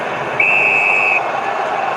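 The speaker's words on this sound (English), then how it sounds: "And very early Ray Chamberlain whistle." An umpire's whistle blows once at an AFL football match between Melbourne and Collingwood at the MCG, a single steady shrill blast of under a second cutting over the loud, constant roar of the stadium crowd.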